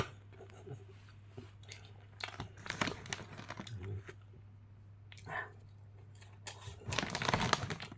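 Someone crunches and chews crunchy cheese puffs close up, with crinkling bag handling and irregular bursts of crunching that grow busier toward the end over a low hum.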